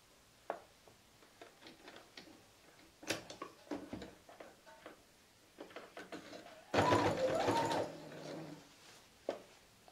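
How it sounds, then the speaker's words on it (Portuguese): A sewing machine stitches an eco shopping bag in short, intermittent runs of rapid mechanical ticking, with one longer, louder burst of stitching near the end and quiet handling noises between. "E vou costurar."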